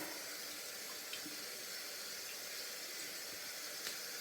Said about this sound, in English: adding even more water.